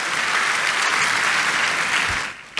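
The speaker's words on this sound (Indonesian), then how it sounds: "Tepuk tangan yang paling meriah buat Tuhan." A church congregation applauds during a sermon, a thick, even wash of many hands clapping at close range that holds steady and then quickly dies away near the end.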